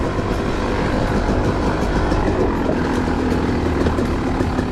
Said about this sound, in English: that's pretty low second gear right there. She just lugs, man.